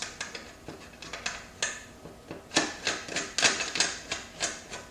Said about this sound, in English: put the screw in there, and then just reattach the screws into the holes